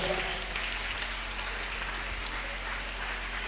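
Applause from a church congregation during a Sunday service, a steady broad wash of clapping that holds at an even level for several seconds with no voices above it.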